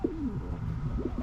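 Pigeon cooing in the Bahamas, a run of soft, throaty coos repeating at a steady pace close by, with outdoor background noise underneath.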